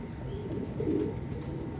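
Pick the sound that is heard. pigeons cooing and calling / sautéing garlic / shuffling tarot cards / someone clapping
pigeons cooing and calling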